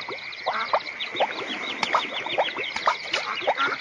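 Ducks quack in a quick run of repeated, fairly close calls, with chirpy bird sounds around them.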